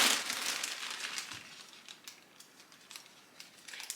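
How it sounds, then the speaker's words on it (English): Shoes being wrapped and packed into a plastic bag for shipping, giving a crisp, close crinkling that is busiest at the start and then continues as lighter, scattered rustles. "and putting them in this plastic bag."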